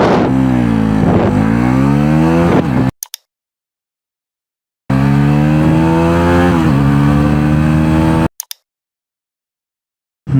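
A 2025 Bajaj Pulsar NS400 with its 373 cc liquid-cooled single-cylinder engine accelerates at full throttle, two loud rising runs through the gears, each cut off abruptly, with silence between.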